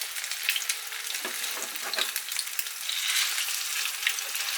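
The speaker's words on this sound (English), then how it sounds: "You just want them in full contact with the bottom of the pan and the oil. And then just fry them a little bit longer" German potato pancakes fry in oil in a pan, giving a steady, close, bright sizzle with crackling pops throughout and no talking.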